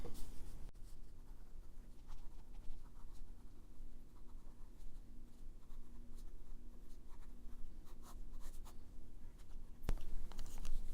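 A pen moves across paper in a steady, close scratching run of strokes, lasting throughout with no talk, made while jotting a note during a Bible study session.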